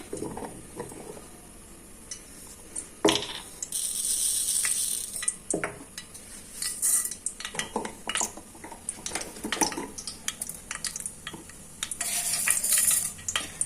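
Mustard seeds sizzle and pop in a pot on a stove, a quiet crackling fry with bursts of hiss and occasional clinks and scrapes of a utensil against the metal pot.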